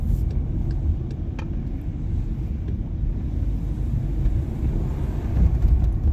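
A car driving, with a steady low engine and road rumble filling the cabin, constant and fairly loud throughout with faint small clicks above it.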